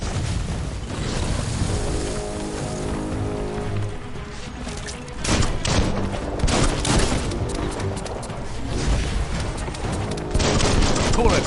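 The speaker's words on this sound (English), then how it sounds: "Bullets everywhere." Gunfire in the Biomutant video game, a dense volley of shots mixed with booms and game music, steady and loud throughout with a sharp burst near the middle.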